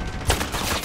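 Gunfire in Call of Duty Modern Warfare, a short burst of shots with one sharper report standing out amid a steady crackle of game noise.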